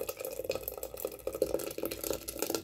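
Hot rice kheer is poured and spooned into a clay pot, making wet dripping and glopping sounds with soft irregular splashes close by.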